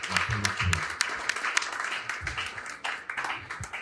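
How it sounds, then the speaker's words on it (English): An audience applauds for Al through the whole stretch: steady, dense clapping from a fairly large crowd at a gallery fine-art event, with a little speech murmur underneath. "I want to just give Al a major round of applause and respect for doing what you do"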